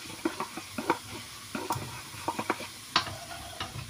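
Fried tomato is tipped into a pot of broccoli stew and stirred, giving a few soft scraping and clinking spoon strokes against the pot over a faint sizzle, close and quiet, with no talking.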